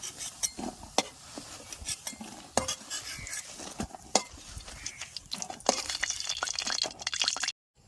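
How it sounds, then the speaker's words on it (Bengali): Fried eggplant fritters are lifted out of hot frying oil in a village kitchen, with repeated metallic clinks and scrapes of a utensil, soft dripping and a faint sizzle between strokes, close and moderately loud. "সমস্ত বড়াগুলো দেখেন আমার সুন্দর করে ভাজা হয়ে গেছে এর উঠাই নেব"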